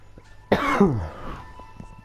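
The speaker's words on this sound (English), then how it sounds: "Sorry, I've got a cough." A single harsh cough, close and fairly loud, bursting out with a rough throaty rasp that fades within about half a second, followed by quiet room tone and faint clicks.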